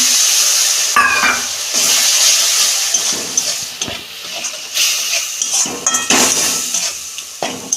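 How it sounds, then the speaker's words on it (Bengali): Water added to chili powder and turmeric powder in a hot frying pan, giving a bright hiss and sizzle broken by stirring scrapes and utensil clinks, steady and close. "ঝাল লঙ্কার গুঁড়ো হলুদ গুঁড়ো অল্প জল দিচ্ছি"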